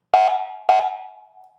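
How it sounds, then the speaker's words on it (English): Two short, loud electronic horn blasts from a black-and-white police-style vehicle, each a sharp tonal honk that rings out and fades, heard close and alone. "That's the bell for the horn."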